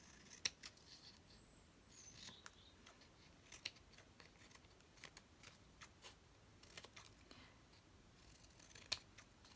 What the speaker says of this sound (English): Because you end up doing quite a bit of snipping to get it right.